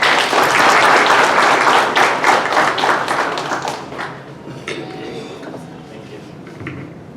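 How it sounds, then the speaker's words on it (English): Loud audience applause for a guest of honor at a Zambian travel agents awards ceremony, steady and full at first, then thinning to scattered claps and faint background voices. "Shall you please give a hand of applause?"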